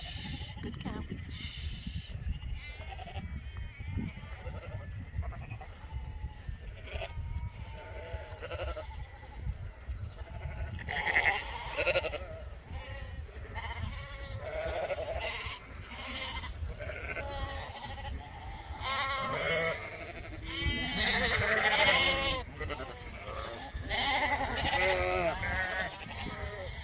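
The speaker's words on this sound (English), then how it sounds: "you should be able to hear in the distance sheep on their way" Sheep being moved from one field to another bleat repeatedly in the distance during a countryside walk, many overlapping calls rising and falling over outdoor background noise and a little nearby talk.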